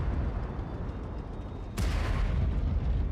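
A tank cannon in World of Tanks Blitz fires one loud, sudden boom near the middle, cutting through a steady low engine rumble that continues after the shot.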